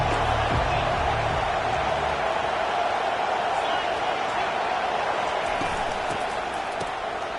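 Football stadium crowd roaring steadily through a big third-down defensive play, a dense, continuous wash of cheering and noise from many people, loud throughout with no single voice standing out.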